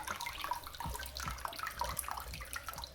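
Water siphons from an aquarium tank through a hose with the faucet off, a soft, steady trickle and gurgle with faint drips, quiet and continuous with no talk.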